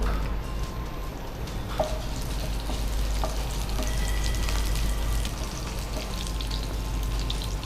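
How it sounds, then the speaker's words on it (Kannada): Curry leaves hit hot oil in a pan for a home-cooked vegetable pulao or brinjal side dish, producing a loud, steady crackling sizzle that runs unbroken throughout with no voices. "ಈಗ ಕರಿಬೇವು ಹಾಕೋತೀನಿ."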